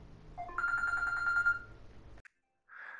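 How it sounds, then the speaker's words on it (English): A mobile phone rings close by during a snooker game, a bright electronic ringtone warbling for about a second before cutting off, followed by a short beep and a fainter tone after a pause. "That was my phone."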